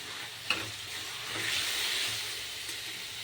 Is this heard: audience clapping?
no